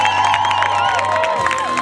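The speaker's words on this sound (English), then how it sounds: "Keep giving these folks on the bottom the bigger round of applause." A crowd cheers and whoops at a Guinness World Record attempt to fit as many people as possible into a Volkswagen Beetle. The sound is loud, close and sustained, with a steady tone running underneath.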